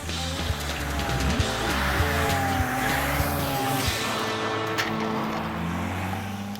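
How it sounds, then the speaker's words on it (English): A car driven at full throttle toward a wall in a materials-strength test, its engine roaring loud and steady with tire noise and a harsh, sustained drone, no voices. "opens the throttle"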